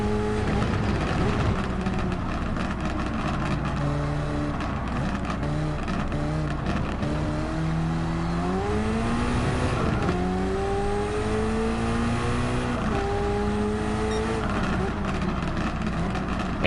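Race car engine in Gran Turismo 7 holding a steady loud drone near top speed, with rising and shifting tonal harmonics as it runs flat out, a little tire noise, continuous throughout with no talk.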